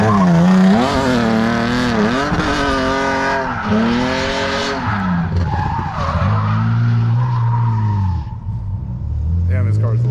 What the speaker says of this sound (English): Damn, this car's loud.